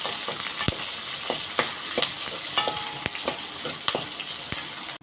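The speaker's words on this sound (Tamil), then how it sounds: "வெங்காயம் போட்டுக்கலாம். நல்லா வதக்கிக்கோங்க." Onions sautéing in oil in a pan for chicken urundai kulambu, a steady close sizzle broken by scattered scrapes and knocks of a spoon stirring through the pan.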